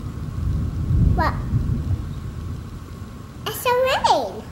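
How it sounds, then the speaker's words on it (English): Rain falls steadily outdoors during a storm, a constant rushing hiss beneath, with a low rumble suggesting distant thunder; a voice and other voices chirp over it in short bursts near the end. "It's called lightning and thunder."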